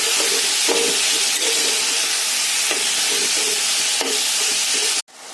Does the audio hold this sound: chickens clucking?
no